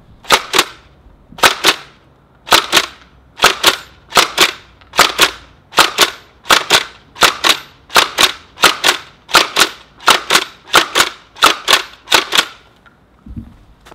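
A BuzzBee Sidewinder foam dart blaster fires a rapid burst of about twenty sharp, evenly spaced snapping shots, loud and close, ending with a soft clunk.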